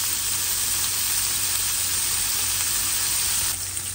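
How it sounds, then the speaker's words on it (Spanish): Chopped bacon frying in oil in a pan gives a loud, steady, close sizzle that holds evenly throughout and eases slightly at the very end, with no talking. "Le voy a poner a freír, es un paquete de tocino, ya está picado."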